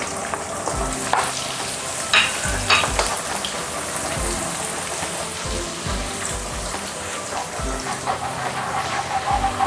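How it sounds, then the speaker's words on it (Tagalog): Garlic sautés in a pan for chicken carbonara, a steady close sizzle broken by repeated spatula scrapes and taps against the pan, with no voices. "mag-add na kaagad tayo ng garlic. Susutay lang natin to hanggang mag-light brown."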